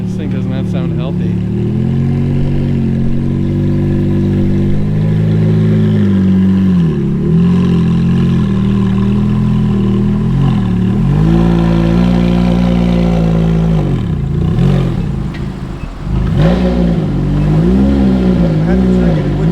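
Ferrari F430 V8 running roughly and unevenly, a loud close engine drone with lumpy dips and surges in pitch throughout, someone talking over it.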